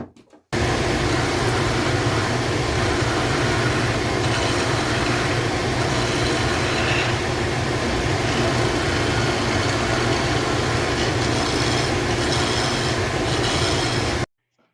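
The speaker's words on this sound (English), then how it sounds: "I've got my lathe set at a high speed." Wood lathe spinning at high speed while a chisel turns a wooden pen blank on bushings, a steady loud whirring and scraping hum that starts abruptly, runs unbroken for about fourteen seconds, then cuts off, with no talking.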